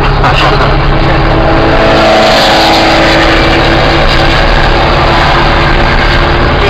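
An old Volkswagen Beetle accelerates hard down the main straight at Interlagos circuit, heard from onboard as a loud, continuous droning engine roar with steady harmonic whine and no talk.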